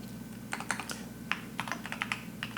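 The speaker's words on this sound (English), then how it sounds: "Okay, so I'm gonna type in my password." Someone types a password on a keyboard: a run of crisp, irregular keystrokes, close and moderately quiet, spread over a couple of seconds with short pauses between clusters of taps.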